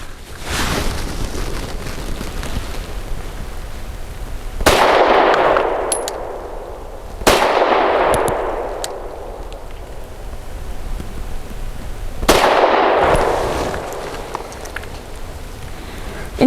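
Three widely spaced shots from a BUL Armory SAS II Ultralight 3.25 pistol firing Winchester Super Clean 90 grain lead-free zinc-core full metal jacket rounds, each a sharp crack with a long ringing outdoor decay over steady background noise.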